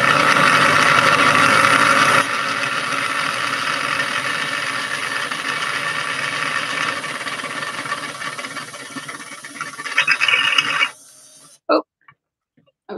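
Power drill spinning to twist sinew, a steady whirring drone for about eleven seconds that shifts slightly partway through, then cuts off abruptly followed by faint brief clicks.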